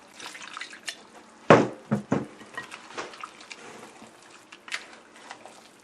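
Carrot fritter batter being mixed after water is added, wet sloshing and a few splashy strokes, close and uneven.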